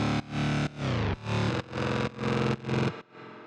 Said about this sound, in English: So let's check out the D-Blue tape stop again.